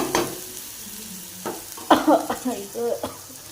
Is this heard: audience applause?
no